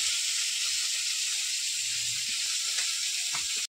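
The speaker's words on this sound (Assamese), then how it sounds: "এতিয়া কুকাৰৰ হুইচেল মাৰিছে এটা" A pressure cooker whistle lets out a loud, steady rush of steam that holds for about three and a half seconds, then cuts off abruptly. There is no talking.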